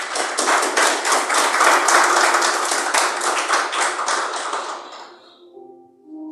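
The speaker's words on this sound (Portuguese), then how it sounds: "Digam graças a Deus, palmas para o Senhor Jesus." A church congregation applauds in praise of Jesus: dense, loud clapping from many hands fills the room for about five seconds, then thins and fades away near the end.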